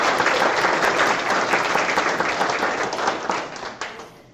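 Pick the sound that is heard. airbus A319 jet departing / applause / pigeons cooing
applause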